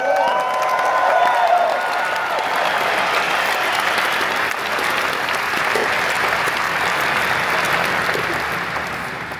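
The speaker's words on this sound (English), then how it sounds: "We need to give our host Portugal a huge, warm cheer and round of applause." A large tech conference crowd in Lisbon applauds and cheers for the host country Portugal, a sustained loud wash of clapping with scattered whoops that holds steady for several seconds before easing slightly.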